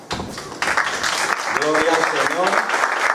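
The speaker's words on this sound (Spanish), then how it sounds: "Aplauso." Church congregation breaking into applause after a prayer, a dense wash of clapping with voices and cheers mixed in throughout.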